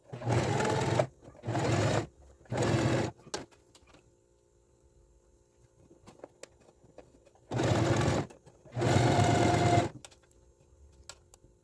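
Sewing machine stitching the side seams of a shirred blouse with a French seam, five loud whirring bursts close by, three quick runs then a long pause before two more.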